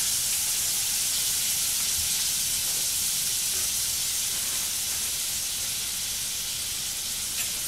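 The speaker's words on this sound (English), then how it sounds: "So we're gonna cook the butter down." Butter cooking down in a pot for étouffée, a steady soft hiss and sizzle that carries on evenly without talk.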